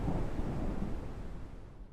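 Rain and thunder in the survival video game Mist Survival: a dense, low rumbling wash of storm noise with steady rainfall, loud and continuous for a couple of seconds with no voices.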